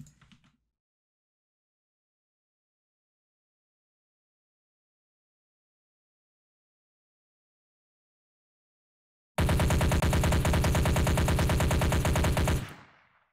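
Rapid automatic weapon fire from a Unity FPS game with weapon recoil, a loud sustained burst of about three seconds near the end, following a long silence.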